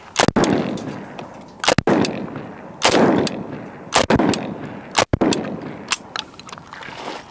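Five rifle shots fired at an Infinity Defense steel target with Mecco Draco 7.62x39 rounds: loud, sharp cracks spaced about a second apart outdoors, each followed by a short echo, with no talking.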